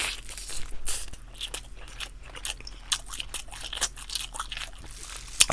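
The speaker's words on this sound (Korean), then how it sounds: "이럴 때 이제 주먹밥 한번 먹어주는 거거든요" A rice ball is eaten at a Korean mukbang meal of spicy chicken wings and steamed egg, with crunchy bites and close, wet chewing over a low, steady background hum.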